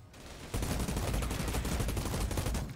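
Rapid gunfire from the video game Outriders as a character shoots over cover, a dense continuous burst of shots starting abruptly and holding loud and steady to the end.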